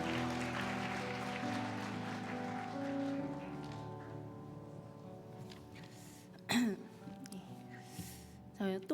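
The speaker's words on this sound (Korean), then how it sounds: "박수 부탁합니다." A church congregation gives a few seconds of soft, rain-like applause over sustained keyboard chords, then the clapping fades, leaving the music and a couple of brief thumps and rustles.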